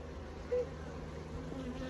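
A steady, faint buzz of honey bees hums throughout, like bees droning close by at a hive, with no voices.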